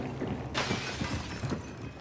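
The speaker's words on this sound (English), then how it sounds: "Who just broke glass?" Glass shatters in a multiplayer shooter game with a sudden bright crash, followed by scattered tinkling fragments, all close and mixed over continuous game ambience.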